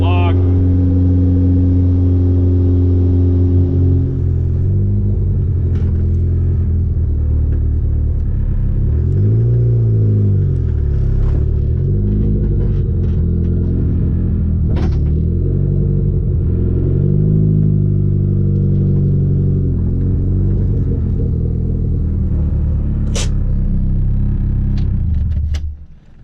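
Turbocharged D15 Honda Civic engine running on a Haltech 550 Elite on an early drive, a loud steady rumble that climbs and falls through repeated revving and acceleration pulls for the whole stretch before cutting off at the end.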